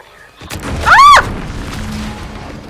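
Explosion in the video game The Outer Worlds 2: a single loud boom with a sharp swooping burst that rumbles briefly, then settles into a low, steady background hum.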